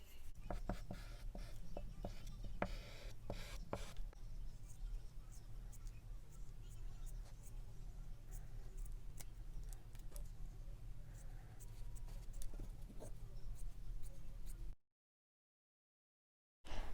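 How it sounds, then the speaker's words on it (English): A pen or marker scratches a line across fabric from an upcycled skirt, followed by scissors cutting along it, as a steady run of close scraping strokes and snips that fills most of the stretch before a sudden drop to silence. "So now I'm gonna just connect the dots and then cut along the line."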